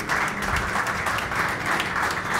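An audience applauds for Gustavo at a talk on the Argentine IT market, a short burst of continuous clapping from a crowd at moderate loudness.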